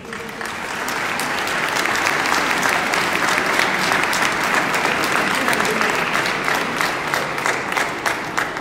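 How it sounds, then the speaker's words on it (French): A church congregation at a Christmas Eve mass applauds children after a living nativity, dense sustained clapping that swells quickly and carries on steadily through the reverberant space. "Vous pouvez les applaudir."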